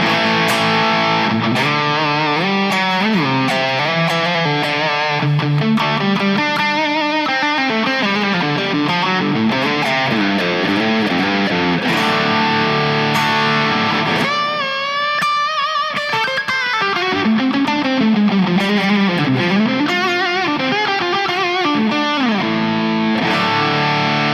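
A loud Enya Sonic JT smart guitar through its built-in speaker plays a high-gain preset with heavy distortion, thick sustained chords and fuzzy, saturated riffs throughout.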